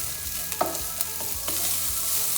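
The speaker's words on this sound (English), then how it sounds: "now we're going in with the ham, the broccoli and the carrots. And I'm just going to cook that for a couple of minutes" Ham, broccoli and carrots stir-frying in a pan, a soft continuous sizzle with a few light knocks of stirring, fairly quiet and with no voices.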